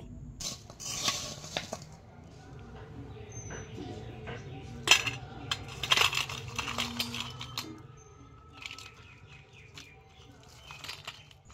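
A spoon scrapes and clinks against a metal pan while small fried khasta goja are stirred to dry their sugar syrup, off the heat, with light irregular knocks and a few sharper clinks in a quiet kitchen.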